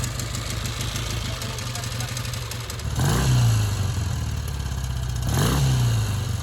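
A 1960 US-specification Triumph Bonneville motorcycle engine runs at a steady, close idle, with two sharp throttle blips rising in pitch and falling back.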